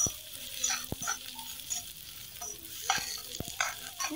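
Onion and green chili sautéing with a pinch of salt in a pan, a light crackling sizzle broken by sharp spatula taps and scrapes against the pan, close and fairly quiet, no talk.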